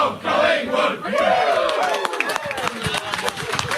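Excited Collingwood AFL players cheering and shouting in the change rooms after a match, a dense continuous roar of raised voices with scattered claps and whoops, close and loud throughout.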